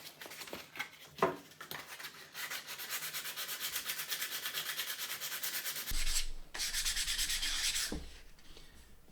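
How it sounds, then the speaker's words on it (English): Sandpaper rubbed over a guitar neck to smooth its back, a close, steady rasp of rhythmic back-and-forth strokes that swell and pause briefly near the end. "next stage is to start kind of sanding up the grits"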